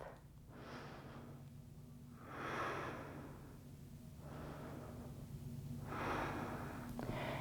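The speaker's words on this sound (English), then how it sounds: "Breathe here for 3 full rounds of breath." Slow, deep breathing held through a yoga triangle pose, with about four long breath swells close by, rising and falling at a steady, calm rhythm against a quiet room hum.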